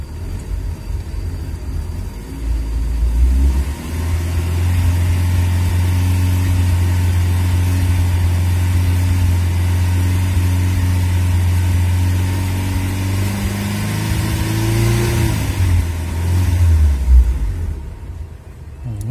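Toyota Kijang 1800cc carburetor engine idling steadily up close with a deep low rumble, then sputtering and faltering near the end before cutting off into quiet.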